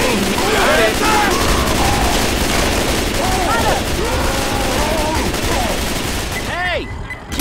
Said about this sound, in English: Oh, you are shooting!